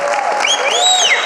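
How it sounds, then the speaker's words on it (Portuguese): Church congregation clapping together in a brief, dense burst, with voices and a high tonal sound mixed in. "Dê uma salva de palmas para o Senhor."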